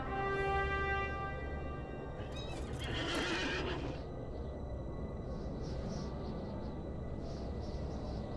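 A horse in the fantasy online game LOTRO neighs loudly as the rider mounts, a long whinny in the first seconds followed by hoof clip-clop over continuous game ambience and music.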